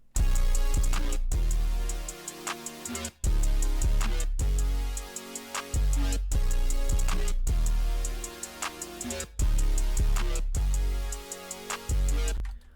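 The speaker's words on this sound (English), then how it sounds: "All together with the main melody synth, the 808, the clap, and the hi-hat, we have this." A dense electronic beat in which a melody synth, deep 808 bass, clap and hi-hat play together, loud and continuous, with a steady pulsing rhythm and brief dropouts between phrases.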